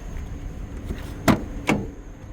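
Two sharp clunks about half a second apart, car doors being opened at a winter car auction, over a steady low idle hum.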